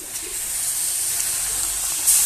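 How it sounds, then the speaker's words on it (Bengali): Water poured into roasted semolina in a pan, a steady soft hiss of liquid hitting the hot grains, close and continuous for a couple of seconds, with no talk. "ওতেও হালকা একটু জল দেব যাতে জিনিসটা সিদ্ধ হয়"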